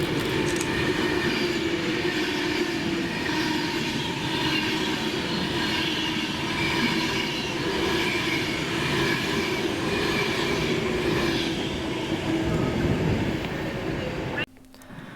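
An Avanti West Coast Class 390 train passes through Stafford station, a loud, sustained roar of rolling wheels with rhythmic clacking and some squeal, before cutting off abruptly at the end.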